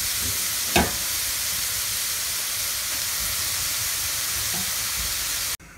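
Two kilograms of grated carrots cook under a lid in a pan, giving off a steady steamy hiss and sizzle with a brief louder clatter early on, close and even until it cuts off abruptly.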